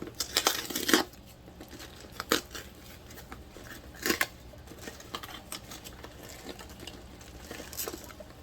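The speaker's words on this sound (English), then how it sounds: "Ugh, I hate these little flat boxes. They're so hard to open. Whatever. Screw it, I'll just rip it." A flat cardboard shipping box holding freshwater clams being ripped open by hand, giving a few sharp close tearing bursts with softer crinkling and scraping between them.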